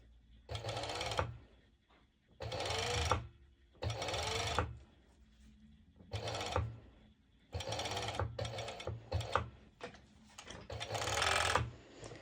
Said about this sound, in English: you can always use a zigzag stitch on your normal sew machine